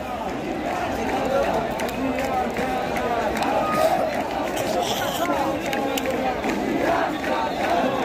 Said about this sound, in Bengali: এখানে মিটিং মিছিল হচ্ছে।